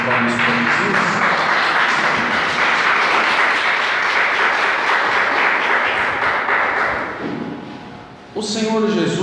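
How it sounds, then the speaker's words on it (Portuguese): Church congregation applauding during a Portuguese-language Lenten sermon, a dense sustained wash of clapping that thins briefly near the end before talk resumes. "dê uma salva de palmas para Jesus"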